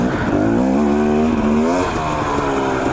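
Close dirt bike engine on an Idaho enduro trail, held just above idle while crawling over rocks, a rough buzzing note that rises and dips with small throttle changes.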